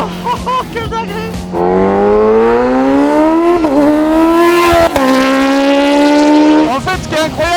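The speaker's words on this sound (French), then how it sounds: "Quand le moteur charge." A tuned 700 hp Nissan GT-R accelerates hard on a race track, its engine howling upward in pitch through gears with brief dips at shifts, very loud and close, with excited talk in the cabin.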